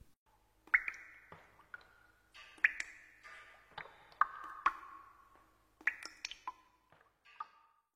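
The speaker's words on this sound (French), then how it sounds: "Goutte d'eau." Water drops falling one after another in a children's listening game, a series of bright, pitched plinks and drips spread irregularly across several seconds, fairly quiet and heard alone.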